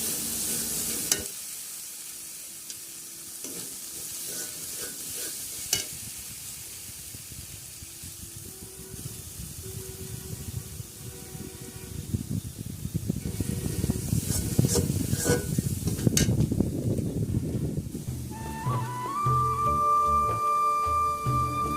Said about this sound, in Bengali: এখন আমি তেজপাতা ও গরম মশলা দিয়ে দিব।